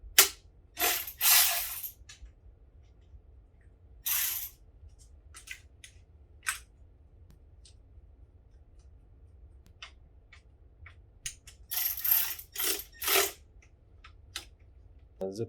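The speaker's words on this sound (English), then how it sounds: "Zip tie it there, cut it nice and short so you can't cut yourself." A zip tie is fastened and trimmed on off-road bike wiring during assembly of a Wired Off-Road GK-85x, heard as a few sharp clicks and snips in short bursts against a quiet background.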